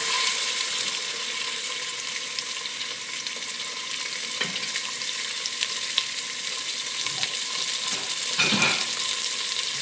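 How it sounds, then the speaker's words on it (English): Steady sizzling and crackling of steak frying in a hot pot, with a few faint clinks and scrapes. "I'm going to put the steak in here and hopefully we'll hear a sizzle"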